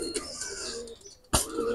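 Two running pigeons for sale in Bangladesh give a few soft coos and rustles close by, with a sharper burst of noise partway through.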